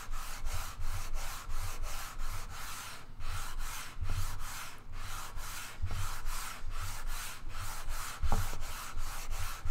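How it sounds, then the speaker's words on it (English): Steady back-and-forth sanding on a wooden guitar fingerboard to radius it, a rhythmic scratchy rasp repeating about twice per second, close and continuous with a few faint knocks. "I'm still sanding."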